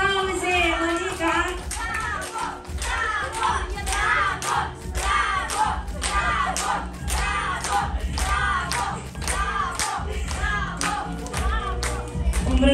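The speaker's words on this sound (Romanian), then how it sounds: "Aplauze, Monica!" Clapping and cheering from a family gathering in Cahul, Moldova, greeting a father who danced; steady rhythmic hand claps under lively voices and shouts, with people talking throughout.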